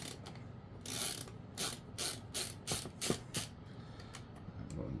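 A screwdriver backs screws out of a plastic computer case, making a series of close, repeated ratcheting clicks in short bursts. The rhythm is fairly even, and there is no talking.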